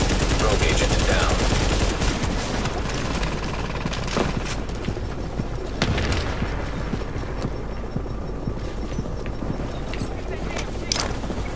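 Gunfire in the video game The Division during a Dark Zone incursion: dense, overlapping bursts of shots and booms that continue steadily through the whole stretch at fairly loud level.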